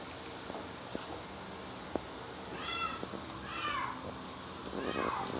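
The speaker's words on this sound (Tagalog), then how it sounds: "Ang pusa naman dito." A cat meows three times in drawn-out, rising-and-falling calls, fairly faint and set against a steady background hiss with a few soft knocks.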